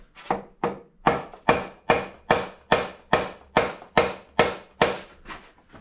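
A plastic hammer taps hard on a metal shaft through a brass punch about a dozen times in a steady rhythm, each blow a sharp knock close by, with no one talking.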